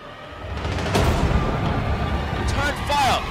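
Gunfire in a war-action game trailer, heard as dense booms and rumbling blasts, loud and close, with a voice shouting over the shooting.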